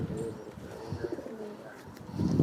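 Pigeons in a home loft in Coimbatore coo softly and steadily through the clip, with low throaty calls overlapping and a faint chirp or two on top.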